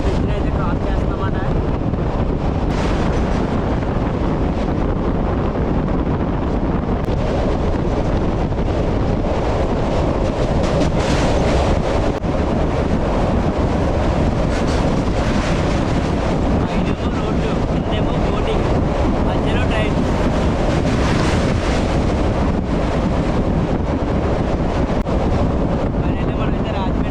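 A passenger train on the Kakinada to Tirupati run crossing the Rajahmundry bridge, heard as a steady, loud, broadband rumble and wind roar that holds for the whole stretch without a break.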